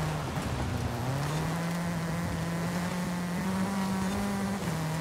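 An M-Sport Fiesta rally car engine drones steadily while driving in Forza Horizon 5, a sustained close hum rising slightly in pitch, with faint game background noise and no talking.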